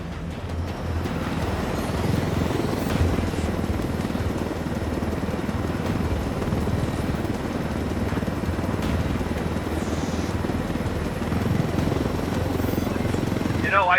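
A helicopter flies in a PC action video game, its dense rotor and engine roar filling the scene steadily and loudly for the whole stretch, with no talk over it.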